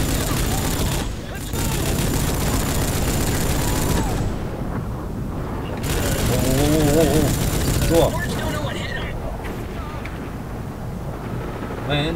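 Gunfire from the video game Rogue Trooper, with rapid bursts of shots and booms filling a dense, loud soundscape. Someone talks over the battle noise.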